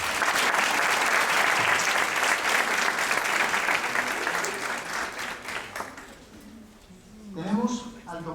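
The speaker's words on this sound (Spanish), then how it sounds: "un fuerte aplauso, por favor." An audience at an academic law event at UNAM's Faculty of Law claps loudly and steadily for several seconds, the applause fading out before a voice begins speaking in Spanish near the end.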